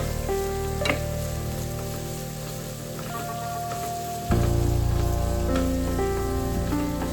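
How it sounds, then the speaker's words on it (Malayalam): Chopped onions with crushed ginger and garlic frying in oil for a vegetable biryani masala, a continuous close sizzle with occasional clinks, growing noticeably louder partway through as more goes into the hot pan. "അതിനായിട്ട് 2 സവാള എടുത്തിട്ടുണ്ട്. ചെറുതായിട്ട് കട്ട് ചെയ്തത് ഇട്ട് കൊടുക്കുന്നുണ്ട്."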